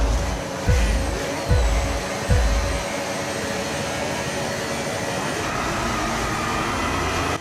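Formula 1 race start at Monaco in the F1 25 racing game: a few loud low engine surges in the first seconds, then a dense steady roar of many cars accelerating together, sustained to the end.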